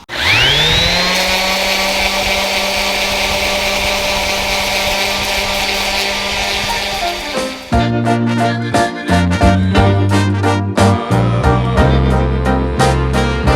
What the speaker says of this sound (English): we're going to try using this sander right here